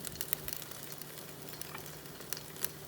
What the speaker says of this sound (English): Sizzle. Yeah, they sound good.